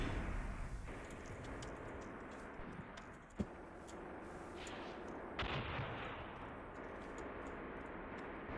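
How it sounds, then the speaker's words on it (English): Artillery in the Graviteam Tactics war game, faint and distant, sharp individual booms and cracks scattered over a steady low battlefield rumble, with one louder report standing out midway. "Artillery, still zeroing in."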